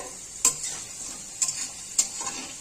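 Potatoes sizzle in hot oil in a wok, with a steady frying hiss and three sharp stirring scrapes spaced across the short stretch.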